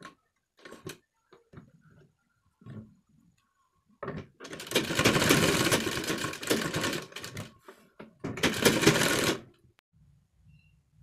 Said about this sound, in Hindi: अब हम इसमें मजबूत सिलाई लगाएंगे